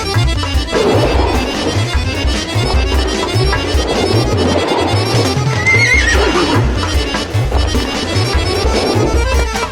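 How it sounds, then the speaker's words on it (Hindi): A cartoon horse neighs and whinnies over a steady clip-clop of hooves, loud and continuous throughout, with a busy animated soundtrack and no talking. "ऐसा लगा जैसे घोड़ा हंसा।"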